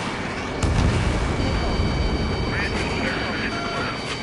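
A missile launches in a video game with a loud, sustained roaring rush and a brief boom near the start, steady through the end under radio-style voices.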